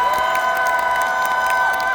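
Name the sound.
crowd applause and cheering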